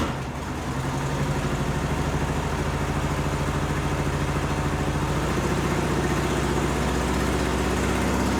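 A 1974 VW Bus engine idles steadily and fairly loud, a continuous low rhythmic rumble with no revving and no voices, running through the whole stretch.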